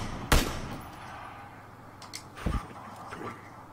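Two sharp gunshots in PUBG, a loud close crack near the start and a second shot about two seconds later, over a low steady background hum.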